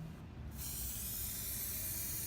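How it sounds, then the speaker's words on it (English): Aerosol spray can applying a coat to plastic car sidesteps, a steady close hiss that starts after a brief pause and continues evenly to the end, with no talking. "We always recommend that when using the aerosol you apply 3 coats"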